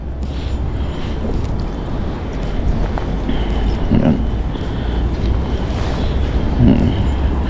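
Strong wind buffets the microphone in continuous rumbling gusts, with a faint wash like surf or water in the background.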